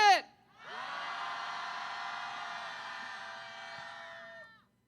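A large crowd of young people at a May 18 Gwangju uprising commemoration festival shouts together in anger for about four seconds. The roar is loud and sustained and swells after a brief count-in before fading out.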